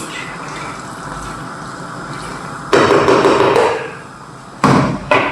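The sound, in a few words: pouring water into chicken béchamel dish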